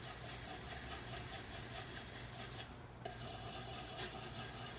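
Abrasive scuffing of metal screw heads and a fiddle tailpiece, a steady rasping rub that runs continuously with a brief pause near the middle, close and fairly constant.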